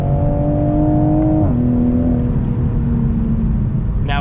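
Toyota Supra A90 with stock tune and stock turbo accelerating hard at the top end, heard from inside the cabin: a loud, steady engine and exhaust drone that drops in pitch at a gear shift, then keeps pulling.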